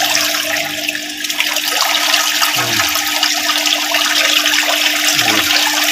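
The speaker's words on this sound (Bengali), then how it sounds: "জল কন্টিনিউ বেরোতে আছে" Water pours steadily from a hole punched in a pipe, driven by a motor pump in a home setup for breeding singhi catfish, a continuous loud rushing splash with a faint motor hum beneath and no talking.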